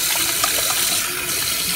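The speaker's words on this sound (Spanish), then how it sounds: "nomás le voy a poner agua" Water runs steadily from a tap into a pot of homemade chili beans in a home kitchen, a continuous close splashing pour that fills the whole moment with no talking.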